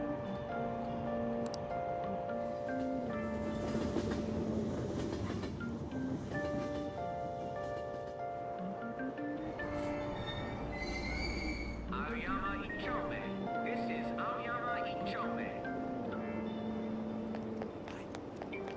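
A train at a station in the video game Persona 5, with rolling rumble, squeals and clatter, a chime and a calm announcement voice over steady station bustle for the whole stretch.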